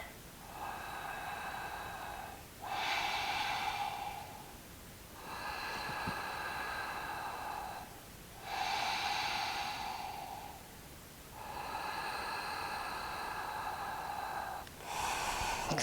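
Deep yoga breathing held in a long-spine forward bend, three full rounds of slow, audible nasal inhales and exhales, each breath long and breathy, close and steady with no talking.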